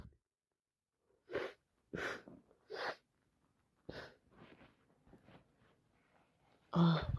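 Several wet, forceful sneezes from someone with a bad cold, spaced out in a quiet room, followed by softer sniffs and breaths and a final loud burst.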